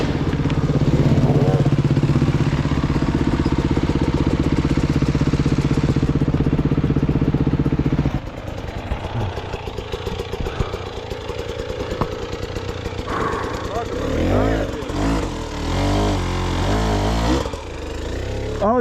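A dirt bike works through a hard enduro trail at Pine Valley, its engine droning loud and steady at first, then dropping into uneven revving, sputters and clatter as the rider picks through rough ground.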